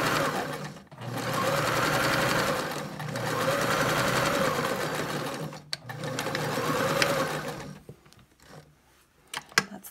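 Sewing machine stitching a fabric face mask along the top seam, running in long steady bursts with brief pauses and a short backstitch, loud and close with no talk.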